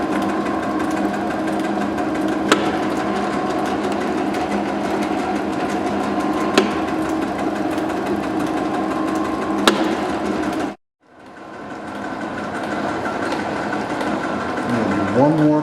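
A lathe cutting a thread on a steel tensile test specimen makes a steady mechanical hum with a few faint clicks. The motor stops abruptly, then spins back up with a rising whine.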